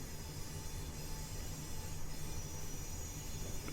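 A Class 319 electric multiple unit runs on the Bedford to Brighton route in Train Simulator Classic, giving a steady, even rumble of wheels and running gear that holds at the same loudness throughout.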